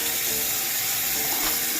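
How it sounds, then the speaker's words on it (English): Steady running water from a tap while hair is being rinsed, a constant hissing spray without pause, fairly close and with no speech. "We're gonna rinse it out"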